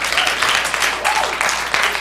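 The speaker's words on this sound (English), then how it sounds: "before you applaud" Audience applause during an education reform conference talk at Harvard, a loud, dense burst of clapping from a large room that stays full and even for about two seconds.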